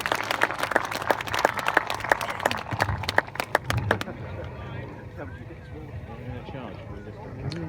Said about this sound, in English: Ladies and gentlemen, an encouraging cheer for all of the troopers